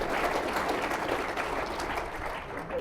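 An audience at a political talk breaks into sustained applause, a dense even patter of clapping hands that fills the room for nearly three seconds before easing slightly.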